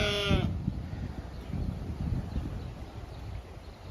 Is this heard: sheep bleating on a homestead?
yes